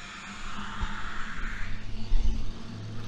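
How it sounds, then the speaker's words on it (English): A school bus rumbles past with a low engine drone, swelling then fading, heard at moderate distance. "It's actually a school bus."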